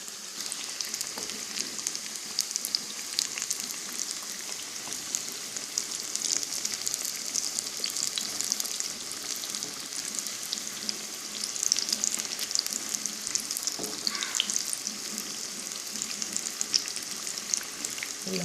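Ridge gourd (luffa) fritters, bajji, deep-frying in hot oil give a steady, dense sizzle with fine crackling throughout, close and even, with no talking.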